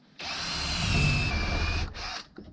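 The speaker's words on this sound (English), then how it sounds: "I'm going to give this a test drill in a piece of wood" A power drill with a spade bit whines loudly up close as it bores into wood, running steadily for under two seconds before spinning down.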